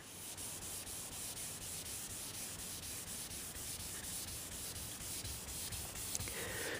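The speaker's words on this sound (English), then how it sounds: "When you're doing your color sanding, this is the only sound you want to hear." A continuous soft, hissing scrub of wet sandpaper color sanding car paint, steady and close, with no voices.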